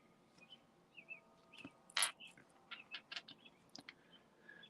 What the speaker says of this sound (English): love hearing the birds chirping in the background.